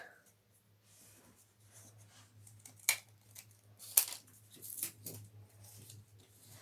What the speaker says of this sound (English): Now we will cut it.